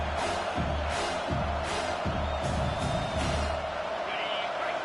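Home crowd at a football stadium roars continuously and loudly throughout, with swelling cheers under a broadcaster's voice.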